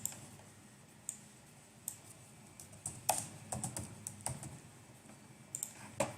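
Keys tap on a laptop keyboard, close and fairly quiet, in irregular bursts of clicks with short pauses between them. No talking.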